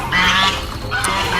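A pelican in a pool gives honking, goose-like calls, a few loud nasal bursts close by with splashy background noise and no talk.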